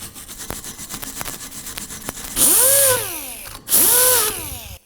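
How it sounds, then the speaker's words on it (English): A pneumatic air tool fitted with a Scotch pad scrubs corrosion off a front brake caliper bracket on a 2007-2013 Acura MDX: rhythmic close scrubbing strokes, then two loud bursts of whining spin-up and wind-down with sharp air hiss, no talk. "move over to a air tool with just a Scotch pad on it"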